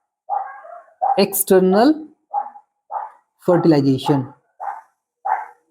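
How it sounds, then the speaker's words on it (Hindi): A neighbour's dog barks repeatedly in the background, with short yelps at regular intervals heard between and under a man's clear nearby speech. "कुकुर के भौंकने की आवाज आ रही है ना बैकग्राउंड में?"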